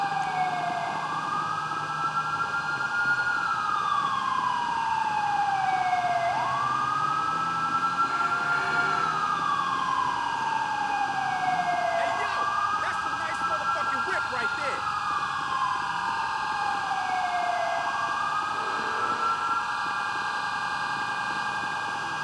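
An ambulance siren in the video game GTA 5 wails in long, repeated rising and falling sweeps, loud and continuous against steady background noise, with a voice speaking at times.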